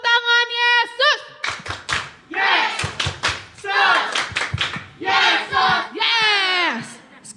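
A group of children at a Sunday school Christmas event clapping hands in rhythmic bursts, mixed with loud chanting and singing voices throughout.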